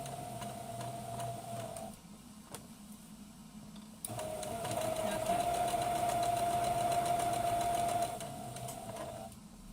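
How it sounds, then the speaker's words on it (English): Sewing machine stitching around the edge of a fabric wet wipe holder cover, a whirring mechanical hum in short runs with a pause, then a longer steady burst. A soft voice can be heard under the machine. "lift to go round the corners so that you can turn it without dragging the needle, because that's not good for your machine."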